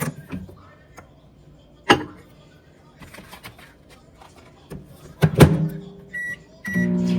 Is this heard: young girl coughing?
no